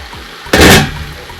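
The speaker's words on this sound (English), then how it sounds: "See, it's been actually boiling." A pot of cassava leaves has been boiling, and when its lid is lifted a sudden loud burst of bubbling and steam hiss breaks out, then eases into a softer simmer.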